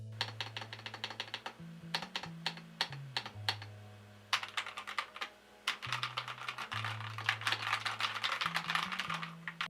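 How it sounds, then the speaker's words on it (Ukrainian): Rapid typing on Hator Orum Orange linear mechanical keyboard switches in a Hator Skyfall 2 TKL Pro keyboard, with steady clusters of soft keystrokes close up over a low musical backing. "лінійні механічні перемикачі Hater Orum Orange. Вони характеризуються приємною плавністю ходу, малою силою натискання та досить комфортним звуком спрацьовування"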